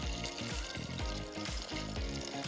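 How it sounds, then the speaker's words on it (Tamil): Water poured into a pressure cooker holding lentils, a steady, close splashing pour with sizzle-like noise running the whole time, no talk over it. "தேவையான அளவுக்கு தண்ணி ஊற்றிக்கலாம்."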